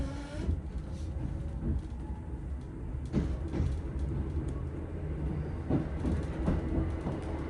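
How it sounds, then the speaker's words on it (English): Train pulling away from Rutherglen station in Glasgow, a steady low rumble with rhythmic wheel clacks and rattles heard from inside the carriage, moderately loud and continuous. "And we are now departing Rutherglen."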